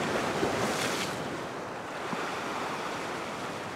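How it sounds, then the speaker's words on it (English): A small ocean wave washes up around a wader's ankles and knees in shallow surf, producing a steady broadband wash of water with wind noise and no voices. "So here comes a little wave now, but it's just going to wash up around my ankles and knees maybe."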